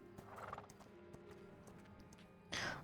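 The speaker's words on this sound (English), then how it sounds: "Oh my god, horsey!" Horse hooves clip-clop in quick, uneven steps in Ashes of Creation, ending with a loud, sharp whinny; ambient game sounds sit faintly underneath and no one speaks.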